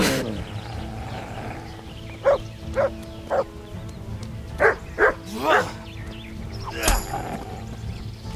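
Dog in Kingdom Come: Deliverance barking in a medieval game setting, a run of about seven sharp barks in uneven bursts over a steady background hum, fairly close, with no speech.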